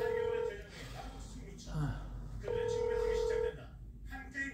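A telephone ringtone plays in two long electronic tone bursts with a pause between, fairly faint and heard under background talk.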